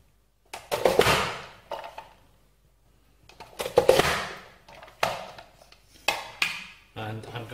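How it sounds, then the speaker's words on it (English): Onions being chopped with a Nicer Dicer: two heavy plunging clacks with crisp cutting bursts, followed by lighter knocks and rattles of the plastic dicer, close and distinct with quiet pauses between. "We start off by chopping the onions, for which I like to use my nicer dicer."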